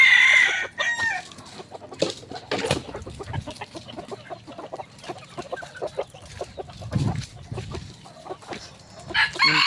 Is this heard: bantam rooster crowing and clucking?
yes